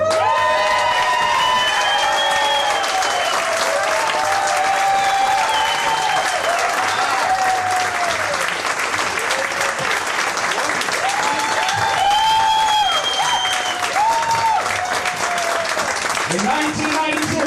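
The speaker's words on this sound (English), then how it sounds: "Philomena is proud to the roaring approval of the crowd" A large theater crowd applauds at a stage show, a sustained loud wash of clapping mixed with cheers and whoops that runs unbroken for the whole stretch, with a voice talking over it.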